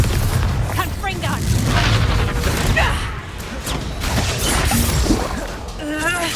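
Bombarda spell explosions in the game Hogwarts Legacy, heavy booms and crashing impacts with whooshing swishes in a busy, continuous battle din, with voices calling out over them.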